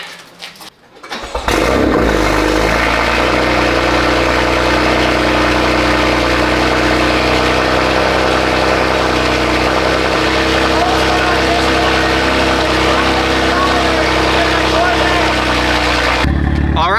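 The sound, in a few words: car engine cold start with loud exhaust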